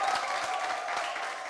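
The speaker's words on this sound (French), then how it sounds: "je vais vous demander, cher public, de vous applaudir bien plus fort que cela" Studio audience applauding on a television entertainment show, a continuous dense patter of many hands at even loudness from start to finish.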